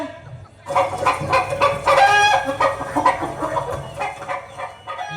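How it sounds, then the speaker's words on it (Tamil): Several chickens cluck busily at close range, with overlapping squawks and calls forming a dense, continuous farmyard chatter. "இதோ பாரு, இது திருச்சி கோழி"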